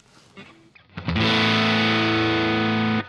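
Electric guitar through an EarthQuaker Devices Plumes overdrive with the gain cranked, a few quiet picked notes followed by a loud sustained distorted chord that rings for about two seconds and then cuts off.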